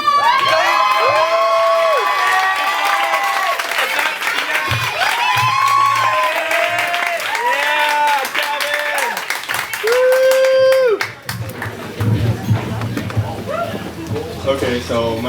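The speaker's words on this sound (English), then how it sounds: "we're going to give them a massive round of applause" A poetry slam audience applauds and cheers for performing poets, loud clapping mixed with whoops and high excited voices that swell in bursts, with people talking and shouting over it.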